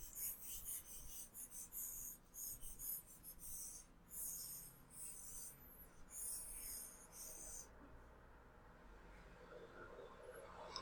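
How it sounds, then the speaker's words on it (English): A board is wiped clean of math writing with brisk back-and-forth eraser strokes, rhythmic scrubbing bursts that are close but fairly quiet, then fade into a soft rubbing hush, with no talking. "So now I have to erase all of this."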